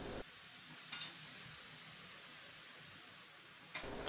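Steady sizzling of food frying in vegetable oil in a pan over medium heat, a continuous hiss with a couple of brief stirring clatters.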